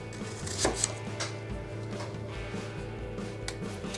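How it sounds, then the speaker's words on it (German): An apple, cored, is chopped into small pieces with a knife on a board, a steady run of close, fairly loud cutting knocks over a constant background hum. "dann wird der Apfel in kleine Stückchen geschnitten"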